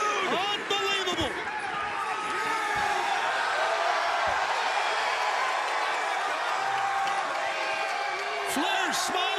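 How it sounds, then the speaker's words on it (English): Roaring wrestling arena crowd at AEW Dynamite cheering for Sting, loud whoops and sustained cheers filling the clip while an excited commentator talks over it. "listen to this crowd, it has come unglued"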